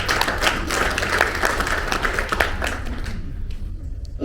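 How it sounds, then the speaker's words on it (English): An audience claps to welcome a guest speaker at a 2022 youth climate change event in Africa, a steady patter of hands from the room that thins out toward the end. "Please let's welcome him with an applause."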